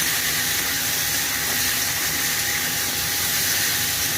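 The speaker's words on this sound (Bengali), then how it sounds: "হালকা ভেজে নিচ্ছি" Food lightly frying in a pan with salt and ground green chilli, a steady even hiss and sizzle that holds at a constant level throughout, with no voices.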